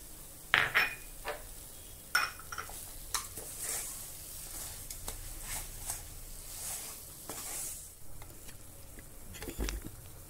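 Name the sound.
mashing sugar and jaggery mixture in a pan with a masher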